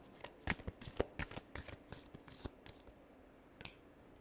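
A deck of tarot cards shuffled by hand, giving a run of quick crisp riffling bursts and snaps for a few seconds before trailing off to near quiet, close and moderately loud with no voices.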